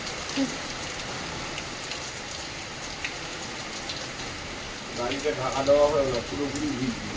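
Steady rain pours down as a dense, even hiss, with a few drips and a brief murmur of voices near the end.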